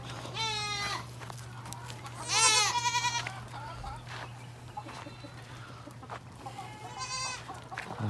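Goats bleat on a backyard farm in the hot season, several loud quavering calls spaced a few seconds apart over a constant low hum, with chickens clucking nearby.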